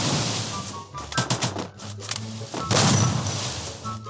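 Rapid bursts of video-game gunfire in Free Fire, loud clustered shots in quick volleys with short gaps between them, with a few faint tones in the background.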